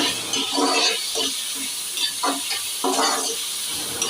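Tomatoes frying and sizzling in a pan for a brinjal and dried fish curry, a steady close hiss broken by repeated scraping stirs of a spoon, with no talking.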